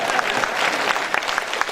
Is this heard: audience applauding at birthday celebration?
yes